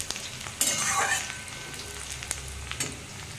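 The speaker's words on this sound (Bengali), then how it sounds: "পেঁয়াজটা আমার এখনও ভাজা হয়নি, আর একটু ভাজা হবে।" Onions sizzle in a pan while being browned for a mutton dish, a constant frying hiss punctuated by a few stirring scrapes and soft taps, close and without voices.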